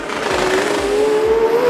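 A 2WD street drag car launches off the start line at a 2018 souped-up drag racing qualifier, its loud engine roaring steadily with a climbing pitch, close and continuous.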